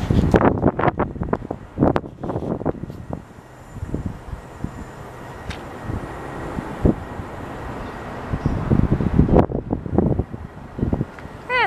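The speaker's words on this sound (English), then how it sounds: "now I'm going to show you exactly how windy it is" Strong wind buffets an uncovered camera microphone outdoors, loud rumbling gusts that rise and fall in bursts, dipping briefly in the middle before roaring again, with a voice heard speaking between gusts.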